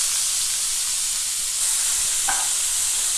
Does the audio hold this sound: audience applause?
no